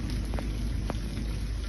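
Steady rain pours down in a dense, continuous hiss with a heavy low rumble, a few sharper drop hits standing out against the constant wash.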